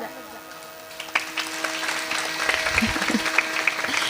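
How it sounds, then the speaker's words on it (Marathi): Audience applause at a devotional kirtan gathering, scattered claps growing into steady clapping over a faint background hum, with voices murmuring. "मन मोकळ्यापणानं टाळी वाजवत जा"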